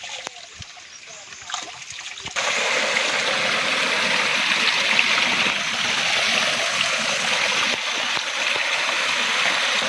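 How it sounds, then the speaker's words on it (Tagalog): Water rushes and splashes steadily after a quieter start as a tilapia fish pond is drained, a flowing stream with a low engine hum beneath it. "Kaya babawasan namin yung tubig kasi malalim."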